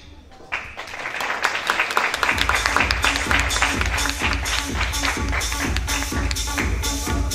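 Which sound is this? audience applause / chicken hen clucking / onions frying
audience applause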